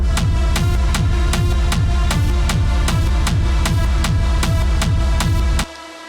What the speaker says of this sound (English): I also made this kick back by listening to a lot of hard techno, so I came up with this kick.